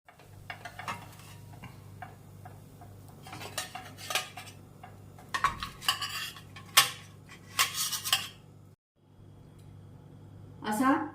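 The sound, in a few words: spatula and pan while taking ragi dosa onto plate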